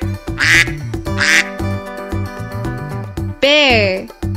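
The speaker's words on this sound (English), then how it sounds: "Duck." A duck quacks loudly three times, with two short quacks close together and then a longer, drawn-out one, all over a bouncy musical backing with no voices.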